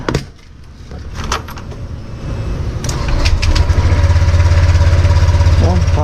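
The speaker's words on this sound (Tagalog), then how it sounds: "pinapaandar ko muna yung motor ko. Para at least uminit." A motorcycle engine idles while warming up, a steady low rumble that builds and settles into an even, continuous throb close by after some initial clatter, with someone speaking over it.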